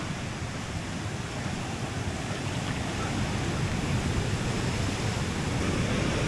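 Powerful sea waves surge up and flood a house's yard, a steady, loud, broadband roar of rushing surf and churning water that holds without pause throughout.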